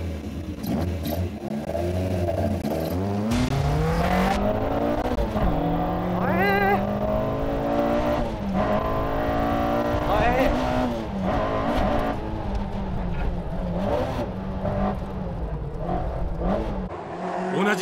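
Toyota MR-S sports car accelerating hard on a mountain pass, its engine note climbing steadily through rising revs and holding loud and close throughout, with a race commentator talking over it.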